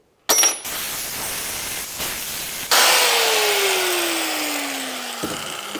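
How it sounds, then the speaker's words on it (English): A power tool cuts most of the way through a bearing race during a small car build. A short harsh burst comes first, then a loud sustained whine that gradually winds down. No voices are heard. "I'll just cut through that most of the way through that race"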